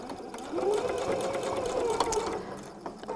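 A sewing machine runs in one steady burst of fast, even stitching as it sews the side seams of a sparkly tote bag, close and alone.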